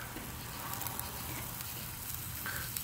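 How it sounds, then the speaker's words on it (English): Onions sizzle steadily on a hot Weber grill, a soft continuous crackling hiss with faint pops, no talking. "Sizzle, sizzle, baby."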